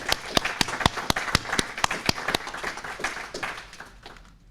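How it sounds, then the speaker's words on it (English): Clapping from an audience welcoming distinguished members of the American Society of Civil Engineers at a ceremony: dense, rapid claps with sharp individual hits, steady and fairly close, gradually thinning toward the end. "It says there should be applause, so we did that."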